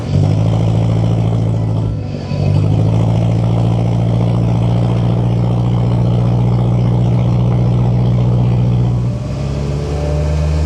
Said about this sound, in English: The W115 diesels, and Marcus has got 2 of them, have a really nice exhaust note